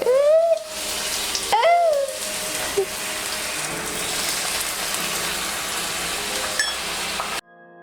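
Water hits hot caramel in a pan, bursting into a loud, hissing spatter that holds steady for several seconds before cutting off abruptly.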